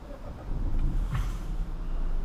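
A 2024 Peugeot 2008 Allure PureTech with a 1.2 litre 129 hp petrol engine pulls away, giving a low, steady engine hum with a slight rise, heard from inside the car.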